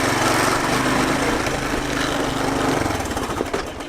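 An old Honda three-wheeler that was abandoned and revived runs loud and close, its small engine chugging and rattling steadily throughout with no talking.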